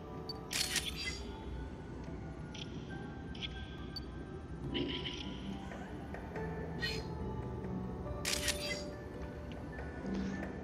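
Camera shutter clicks from taking photos in the New Pokemon Snap video game: several crisp, separate snaps spread irregularly over ambient game sound.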